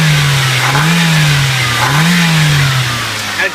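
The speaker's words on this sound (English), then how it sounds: "This is the 16-valve Z-Tech engine. It's just the upgraded engine, but this thing runs good." A 2003 Ford Focus ZX5 hatchback with a 16-valve Zetec engine revs up and settles back twice, a steady, loud, close engine drone without any talking.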